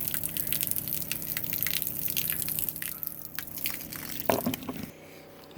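Low-pressure water trickling and dripping from a faucet in an RV fresh water system filled with a vinegar solution, a thin, steady flow heard close up that cuts off near the end.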